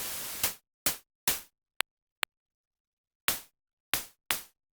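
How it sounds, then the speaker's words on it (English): Synthesized snare drum hits from a 1010 Music nanobox Razzmatazz: a series of crisp, noisy strikes with quick decays, spaced irregularly, including two very short clicky hits, heard alone and dry. "it gives you a basic sort of starting point for a snare sound"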